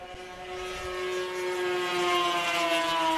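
Racing motorcycles power out of turn four as a steady, loud engine drone with a high harmonic whine that swells slightly as they pass. No voices are heard.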